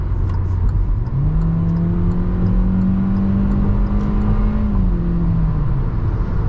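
A 2022 Hyundai Accent's engine drones steadily as the car accelerates, its pitch climbing then easing off after a few seconds, with road noise beneath and no talking.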